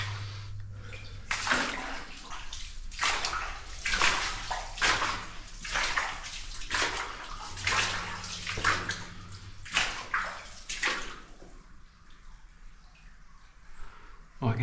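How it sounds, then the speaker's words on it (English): Water rushes inside an old flooded mine tunnel near the Ohinemuri River, coming as repeated surging splashes and sloshes with short gaps between them, close and echoey. "I can hear water gushing up ahead."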